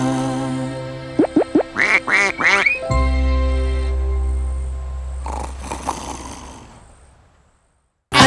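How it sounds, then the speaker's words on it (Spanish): A cartoon duck quacks in a farm-themed children's song, four or five distinct quacks in quick succession over sung music, followed by a held low tone and a fading musical close. "Doña Pata canta a rorro cuá cuá."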